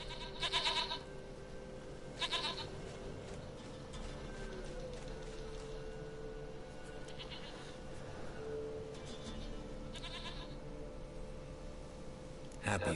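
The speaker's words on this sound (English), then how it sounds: "Goat of mine, dearest, sweetest goat." Goat from The Witcher 3 bleating repeatedly, four or five distinct nasal bleats spaced a few seconds apart over a quiet game background, with some talk mixed in.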